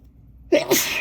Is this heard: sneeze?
yes